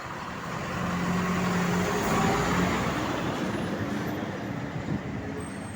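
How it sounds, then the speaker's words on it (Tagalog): Road traffic in Manila forms a continuous wash of engines and tyre roar from cars, trucks and buses, swelling slightly and then staying steady, with no talk over it. "Traffic po rito ngayon mga idol,"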